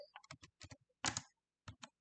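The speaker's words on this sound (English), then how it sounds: "here we are going to type" Typing on a computer keyboard, heard as a close, quiet burst of crisp individual key clicks in an uneven rhythm, with a short flurry in the middle and two final taps.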